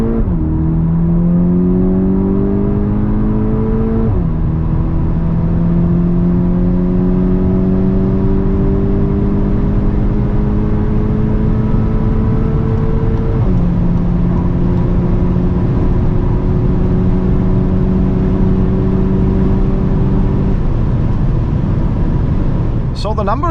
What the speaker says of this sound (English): let's now see how fast the car goes 100 to 200